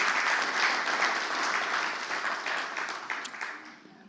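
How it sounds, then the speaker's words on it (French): A church congregation gives the choir a full round of applause, a broad wash of clapping that swells early and then gradually thins and fades toward the end. "Why don't fait you en give ce them a round moment?"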